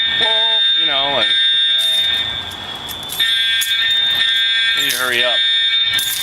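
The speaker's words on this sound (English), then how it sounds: "This false alarm is inconvenient." A building fire alarm in an apartment blares continuously with a loud, piercing electronic tone, close by, while someone talks over it and a brief quieter gap interrupts the sound midway.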